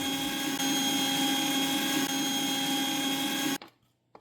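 A mixer grinder blends peanuts with honey and salt into peanut butter, running as a loud, steady motor whine close by for several seconds, then stopping abruptly, leaving near silence.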